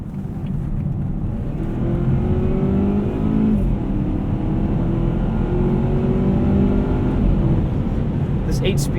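A 2018 Volvo V60 T6 AWD R-Design with an 8-speed transmission accelerates hard, its engine note climbing loudly and steadily under a deep cabin rumble and settling back at the end of each gear, heard from inside the car.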